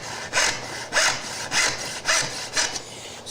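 Handsaw cutting through wood with hard summer-wood bands, five or six rhythmic rasping strokes at a steady pace, close and clear with no talking.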